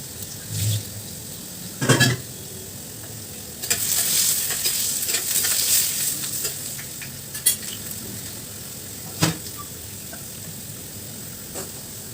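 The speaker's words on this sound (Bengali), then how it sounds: "আর একটু ভেজে নিলেই হয়ে যাবে।" Potatoes frying in mustard oil for a poppy-seed greens dish, with a steady sizzle rising and falling as a spatula stirs and scrapes the pan in several bursts, close and fairly loud, no talking.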